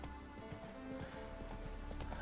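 Roach the horse trotting in The Witcher 3, a quick steady clip-clop of hooves, fairly soft and close over a low ambient bed, with no talk.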